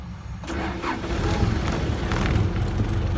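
A completely dead diesel off-road engine is jump-started with an SP Tools 1600A jump pack, cranking briefly and catching into a steady close idle rumble that carries on to the end.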